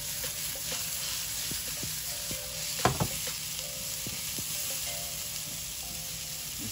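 Two Scotch bonnet peppers sizzle in a pan for pepper pot curry shrimp, a continuous close frying hiss with scattered pops and a few sharper clicks and clatters midway, with no speech.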